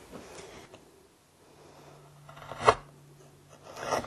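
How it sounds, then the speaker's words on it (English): A sharp carving tool zips through wood in one quick, crisp stroke, with faint scraping and rubbing before and after it. "that zip sound, brings joy to a carver's heart because it means the tool is sharp and it's just zipping through the wood"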